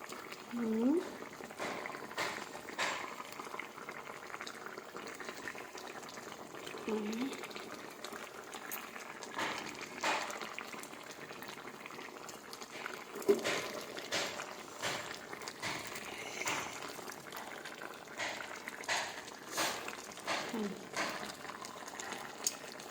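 Eggplant pieces drop one at a time into a pot of boiling potatoes for a sour curry, giving soft splashes and plops over a steady, bubbling simmer, with a voice talking now and then.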